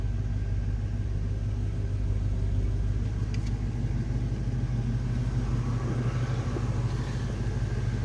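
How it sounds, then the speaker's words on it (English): A 1968 Chevrolet Camaro engine idles with a low, steady rumble through a stock exhaust, even and unbroken throughout, heard from close by with no voices. "No crazy exhaust, I mean just a nice rumble."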